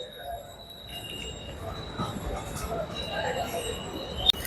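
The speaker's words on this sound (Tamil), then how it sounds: "மெட்ரோ" An airport metro train rolls past with a steady rumble of rail wheels and thin high squeals, growing louder toward the end before a sharp clank.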